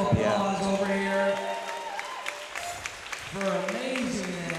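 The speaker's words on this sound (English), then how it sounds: "Let's give these two warriors a big round of applause over here" Audience applauding and cheering for two grappling finalists at the World Class Grappling Grand Prix final, with the clapping steady throughout and voices and tonal sounds carrying over it.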